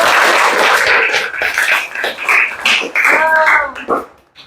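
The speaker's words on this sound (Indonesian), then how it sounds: "kita berikan tepuk tangan" Classroom applause from students, choppy clapping mixed with young voices shouting and chattering, the claps uneven in rhythm and fading out toward the end.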